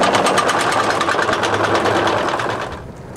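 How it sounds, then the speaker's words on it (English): A sailboat's engine starts on freshly charged batteries while moored at a yacht club; loud, rapid, rhythmic mechanical whirring runs steadily, then drops away near the end. "Batteries charged enough to start the engine."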